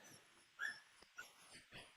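Puppy whining in short high-pitched whimpers, two or three brief faint cries spread over a couple of seconds, fairly quiet and close with no talking.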